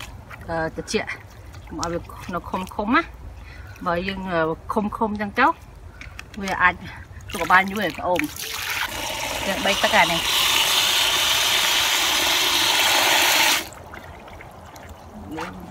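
A person speaks first, then loud running water gushes steadily for about five seconds as cooked rice noodles are rinsed in a bowl for a Cambodian papaya salad, stopping abruptly.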